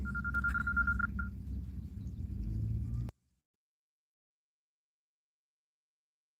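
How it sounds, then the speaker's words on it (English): A telephone in a room gives a brief steady ring for about a second over a low rumbling background, then everything cuts to silence. "I got to answer this phone."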